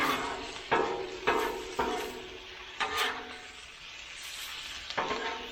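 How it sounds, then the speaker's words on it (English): Mushrooms and onion stirred together on a Blackstone griddle, a soft steady sizzle with a spatula scraping and pushing across the hot steel in several short strokes. "I'll just mix all this up together. Mushrooms and the onion."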